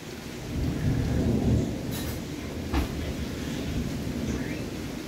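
Thunder rolls low and long during heavy rain on Molokai, a deep sustained rumble with a few brighter crackles over a steady wash of rainfall.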